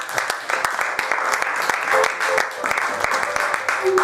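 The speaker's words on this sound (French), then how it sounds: "Est-ce qu'on peut acclamer pour le Seigneur?" A church congregation applauds for the Lord, steady dense clapping from many hands throughout, with scattered voices and cheers mixed into the ovation.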